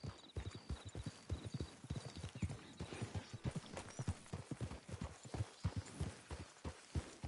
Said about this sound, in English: Did you call your horse?